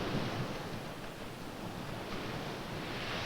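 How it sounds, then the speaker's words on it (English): Ocean waves break on a sloped sandy beach at low tide, a continuous broadband rush of surf, steady and fairly loud with no voices. "A wave breaks when it travels from deep water to shallow water."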